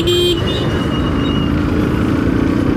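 Vehicle horn sounding in busy road traffic during a motorbike ride, a short loud honk at the start over steady engine and road noise.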